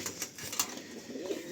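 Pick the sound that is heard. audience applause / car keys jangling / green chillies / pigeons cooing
pigeons cooing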